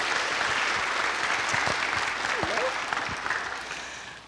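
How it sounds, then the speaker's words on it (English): Applause from the audience at a spring music recital, a full round of clapping that holds steady and then gradually thins and fades toward the end, with a few faint voices mixed in. "give him a round of applause"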